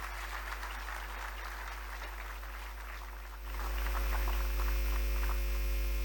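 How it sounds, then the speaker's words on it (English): Audience applause at a steel plant gathering, a dense wash of clapping under a strong steady electrical hum that swells louder partway through as the clapping fades. "a big round of applause for today's gathering."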